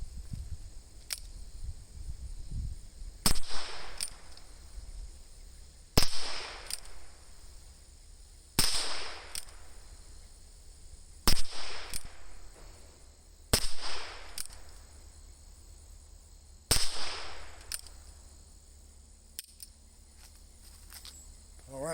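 A Ruger Super Wrangler revolver firing .22 long rifle at a range: about eight sharp, evenly spaced single shots, loud and close, each followed by a brief ringing tail.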